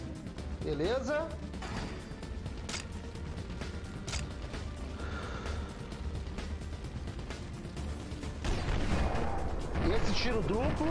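Gunfire and mechanical clatter in the video game Dead to Rights: scattered sharp shots and crashes over a rumbling game soundtrack, with a person talking throughout and a denser burst of action near the end.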